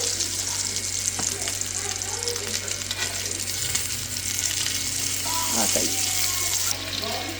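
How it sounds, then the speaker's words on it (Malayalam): Barramundi fish sizzles loudly in hot oil, a continuous crackling hiss with occasional clinks and scraping, and faint sounds of a person moving about nearby. "അതെ കാളാഞ്ചി വറുത്തുകൊണ്ടിരിക്കുന്നു"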